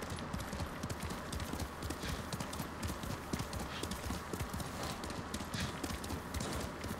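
A horse's hooves clip-clop steadily at a brisk pace in the video game Ghost of Tsushima, a continuous rhythmic patter under quiet, faint background sound.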